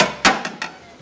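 A pan is picked up and set down on a stove with one solid metallic clunk, followed by two lighter knocks, close and crisp.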